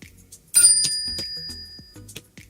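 A bell notification sound effect: a few bright chimes ring out with a lingering ring, set among short soft clicks and taps.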